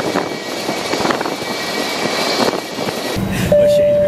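Airplane taking off, a steady rushing engine roar heard from inside the cabin, building slightly with a low rumble joining near the end.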